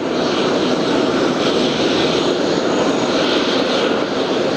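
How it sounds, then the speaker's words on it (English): Jet airliner engines spool down at JFK airport, a loud, steady broadband roar that holds close and constant throughout, with no voices. "the engines are spooling down"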